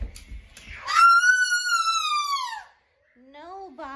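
A voice imitates an ambulance siren indoors, a long loud rising-and-falling wail, with a brief gap before a softer second wail starts.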